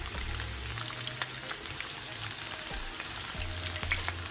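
Cauliflower and other vegetables fry in a pan of hot oil while making a shahi navratan pulao, a soft, steady sizzle and crackle with scattered pops and no talking.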